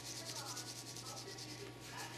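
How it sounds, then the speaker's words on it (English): A stainless steel Desert Eagle pistol being sanded by hand, giving a soft, steady, rhythmic rubbing stroke repeated over and over, close and quiet. "I'm sanding now this way, so I'm going to buff this way"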